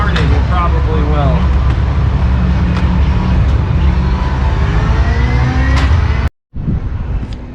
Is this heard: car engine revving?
yes